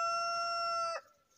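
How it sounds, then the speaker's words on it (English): A rooster crows once, loud and close, a sustained harmonic call lasting about a second before cutting off into near silence. "Excuse the chicken."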